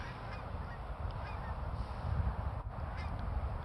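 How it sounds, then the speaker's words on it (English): Geese honk outdoors in a steady wash of calls, dense and fairly loud, with no clear single voice standing out and no talking. "There are like a fuck ton of geese all over the place."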